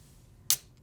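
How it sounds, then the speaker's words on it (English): A can of Rich Energy drink is cracked open with a single sharp, close pop and a short fizzing hiss in an otherwise quiet room. "I'm gonna crack the can open."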